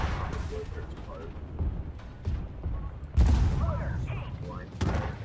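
Tank guns firing in the video game Armored Warfare, a few muffled booms and one heavier blast with rumble, fairly quiet under game noise, with someone talking.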